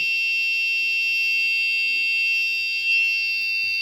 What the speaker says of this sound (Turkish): Ve ledimiz yanıyor, buzzer'ımız ötüyor.